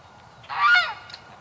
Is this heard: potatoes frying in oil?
no